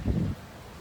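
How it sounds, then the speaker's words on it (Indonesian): A short burst of low, blustery wind rumble buffets the microphone, then fades to a quiet, steady background. "ini berangin banget sih di sini"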